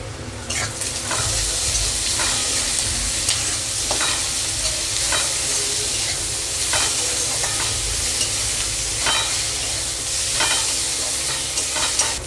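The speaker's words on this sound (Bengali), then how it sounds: "এবার আমি কাঁচা লঙ্কা, আদা আর রসুন বাটাটা দিয়ে দেব, দিয়ে আর একটু ভালো করে নেড়ে নেব।" Chili, ginger and garlic paste being stirred into frying onions, a steady close sizzle running throughout with repeated scraping strokes of a spatula against the pan.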